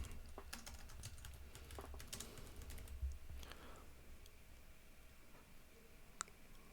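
Quick, light keystrokes on a computer keyboard come in a brisk irregular burst, then thin out to a few scattered taps, faint and close with no talking.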